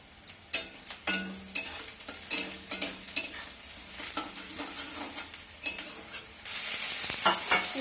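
Tomatoes frying in a pan for a home-cooked chicken dish, with repeated clinks and scrapes of a metal spoon stirring over a steady sizzle that grows louder and hissier near the end; no speech.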